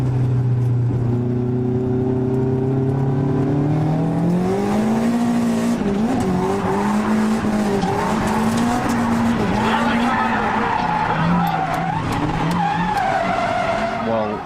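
Nissan 180SX, S15 and S13 drift cars sliding at a drift competition, engines droning and rising in pitch with sustained tyre squeal, loud and continuous, with a voice talking over the top.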